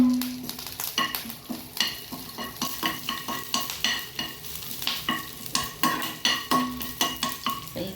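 Crushed garlic and curry leaves fry in oil for a Karavali-style jackfruit chutney, a bright sizzle broken by regular scraping strokes of a spoon stirring against the pan, close and without talking.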